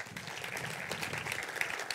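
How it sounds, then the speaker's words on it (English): A conference audience applauds to welcome a speaker at a programming talk, a steady, even patter of many hands clapping in a hall, moderately distant and quiet throughout. "Please give warm applause for Karol."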